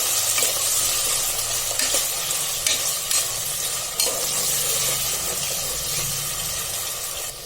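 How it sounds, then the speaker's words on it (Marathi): Potatoes sauté in oil inside a pressure cooker, producing a loud, steady sizzle and hiss with occasional clinks and scrapes as a spoon stirs them. "सगळ्यात पहिले बटाटा टाकूया आणि तो तेलामध्ये आपण परतून घेऊया"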